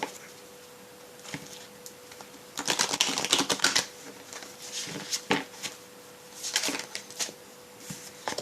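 Tarot cards being shuffled by hand: crisp rapid flicking and riffling in several bursts with short pauses, close up, over a faint steady hum.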